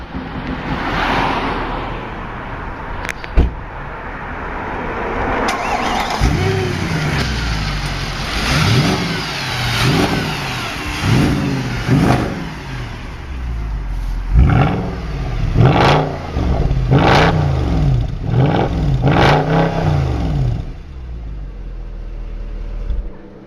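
A powerful Mercedes C63 engine revs repeatedly, each rev climbing and falling in a roaring sweep, loud and close over a steady idle rumble, no talking.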